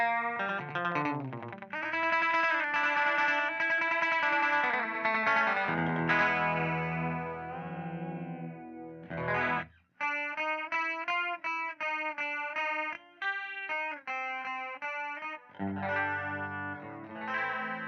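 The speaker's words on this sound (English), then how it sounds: "you can get delay, you can get kind of a chorusing, doubling effect" An electric guitar played through an effects pedal set for chorus and doubling gives shimmering tones, with sustained chords and melodic phrases ringing loud and close, and no voices.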